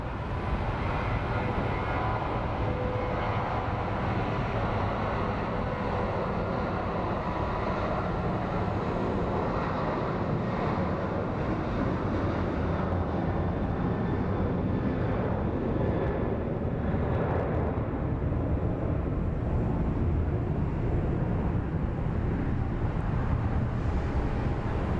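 An American Airlines Boeing 737 takes off from Phoenix Sky Harbor International Airport, its steady loud jet engine roar filling the whole span without a break, with some wind noise mixed in.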